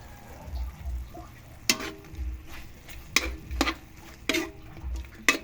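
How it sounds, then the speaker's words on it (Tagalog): Chicken frying in oil in a pan with mixed vegetables, a low steady sizzle under occasional sharp clinks and scrapes of a utensil stirring against the pan, close by with no voices. "Mga karne muna to, pagmantikain lang muna natin siya."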